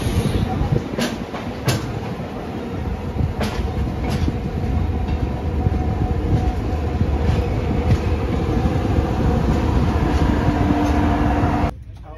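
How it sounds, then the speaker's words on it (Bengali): Vivek Express passenger train pulling out of Visakhapatnam station, a steady loud rumble of rolling wagons with a few sharp clanks, heard from inside the coach, ending abruptly. "এখন হচ্ছে বিশাখাপত্তনম স্টেশন থেকে ছাড়ছে।"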